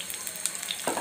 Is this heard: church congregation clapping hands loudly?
no